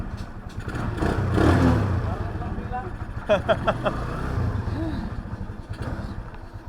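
A motorcycle engine, a Bravo, starts up and settles into a steady low idle rumble, with a few sharp clicks and rattles near the middle while a person talks over it.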